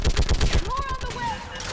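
Rapid automatic gunfire in Mass Effect 3 rattles in a quick burst of close, loud shots before trailing off, with a voice speaking briefly after.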